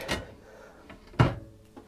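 A kitchen drawer in a Le Voyageur RX Platinum 956 motorhome opens and shuts, giving two or three sharp wooden knocks and slides close by in a quiet room.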